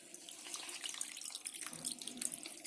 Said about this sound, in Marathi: ही कारली स्वच्छ अशी धुवून घ्यायची आणि आहे ना चांगली दाबून घ्यायची